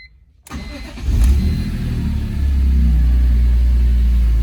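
A retired track-test BMW M3 engine cranks and catches indoors, then settles into a loud, deep, rumbling idle that grows slightly fuller as it runs, with no talking.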